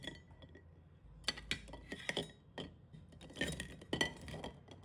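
Tea eggs boiled to about eight-tenths done being set onto a plate: a quiet series of hard clinks and knocks, roughly a dozen irregular taps over a few seconds, close and distinct with no talk.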